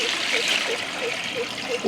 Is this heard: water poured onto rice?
yes